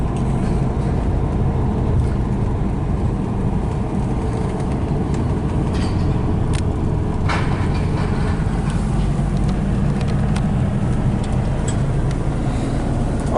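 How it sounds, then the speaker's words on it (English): Volkswagen Type 3 car driving on the Melbourne Formula 1 Grand Prix circuit, a steady loud engine drone and road rumble heard from inside the cabin for the whole stretch. "I really like the way this car runs. Really effortless."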